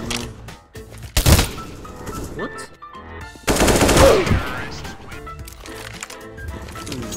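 Loud gunfire in a CSGO match, with sharp blasts and a rapid burst of shots over a busy game background, with some voices mixed in.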